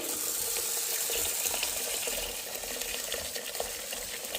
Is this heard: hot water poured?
yes